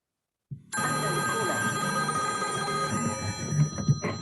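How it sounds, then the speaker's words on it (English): An old rotary telephone bell rings loudly and continuously, a bright metallic trill that starts abruptly after a brief moment of quiet and holds steady throughout. "That's the coolest sounding phone ever. I feel like I can see the rotary dials on it."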